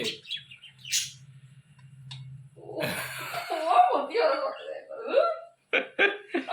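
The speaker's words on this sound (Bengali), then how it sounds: "মা পাখি তাকে দিচ্ছে ওই ও ডেকেই যাচ্ছে" Shrill chirping calls of a young bird being fed by its mother, mixed with voices and laughter nearby, set against a low steady hum.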